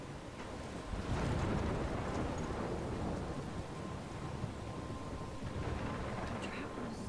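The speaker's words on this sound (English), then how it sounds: "I'm trapped in a storm?" A thunderstorm in the video game Life is Strange: rolling thunder rumbles over steady rain and gusting wind, a continuous dense roar that swells early on and holds at a moderate level with no talking.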